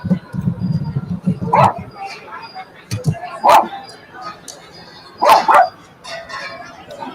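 A dog barks and yips in several loud, close bursts spread across the stretch, with some whimpering between them and people talking underneath.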